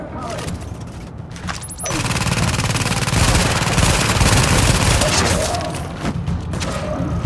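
Automated turret in The Division firing a sustained, loud burst of rapid gunfire in a refugee camp, dense and continuous for several seconds before tapering off, with a few short shots around it.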